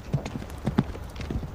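A horse's hooves thud and clop on the ground during a cavalry hit-and-run demonstration, with the rider carrying a kite shield. The beats are close and quick and fall in uneven clusters, with no talking.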